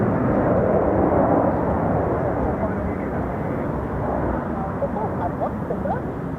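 An F-35 Lightning stealth jet performs a vertical landing at an RAF air show, making a loud, continuous broadband roar that holds steady and close without letup.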